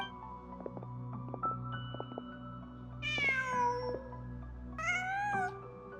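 A cat meowing in the video game Genshin Impact, two clear, drawn-out meows rising over a soft musical background with gentle tones, close and distinct with no talking.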